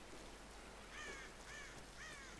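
Crows in Tomb Raider give three evenly spaced caws, faint and somewhat distant, over a steady rain-like hiss with no talk.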